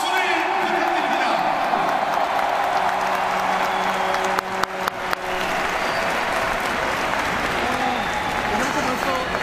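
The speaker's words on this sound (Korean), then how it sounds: "다시 한번 여러분의 힘찬 박수를 부탁드립니다." A stadium crowd applauds at a retirement ceremony for a Korean football legend, a dense wash of clapping and crowd noise throughout, with a few sharp thumps midway and an announcer's voice over the top.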